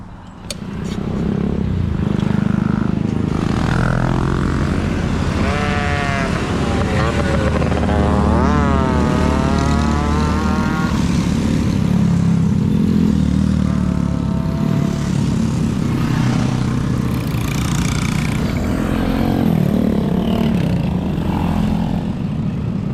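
A mini bike engine with freshly changed sprockets revs hard during a group ride, droning loud and steady with rising and falling whines as the throttle opens, other motors mixed in nearby.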